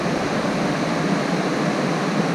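Steady broadband rush of river rapids on a fly-fishing river, a loud continuous roar of whitewater with no breaks and no voices.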